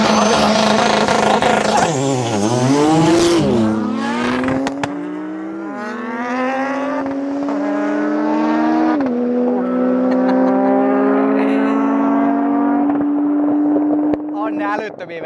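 A tuned Audi S2 with over 800 hp and a 630 hp Porsche 911 Turbo S launch side by side from a standstill in a drag race. Their engines roar loud and close, with the pitch climbing through several gear changes.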